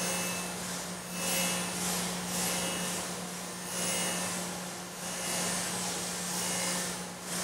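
A grinding wheel works a #2 Morse taper held in a rotating fixture, giving a steady, loud, broadband grinding roar with a constant low hum that holds evenly for several seconds without any talk.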